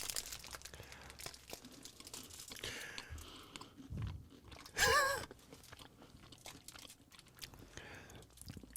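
Store-bought sweets are chewed close to the microphone, with soft, quiet crunches and wrapper crinkles and one brief louder burst of crunching.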